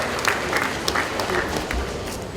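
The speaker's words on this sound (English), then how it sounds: "Please a round of applause for them." An audience at an agricultural show breaks into applause, a dense burst of clapping with crowd noise that stays steady for a couple of seconds.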